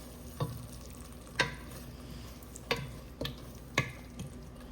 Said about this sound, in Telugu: ఇప్పుడు ఒకసారి ఫైన్గా మిక్స్ చేయాలి.